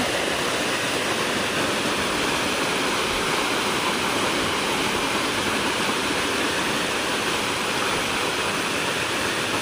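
Ashokjhar waterfall in Jajpur, Odisha, roars as a steady, dense broadband rush of falling water that stays loud and unbroken throughout, with no voices.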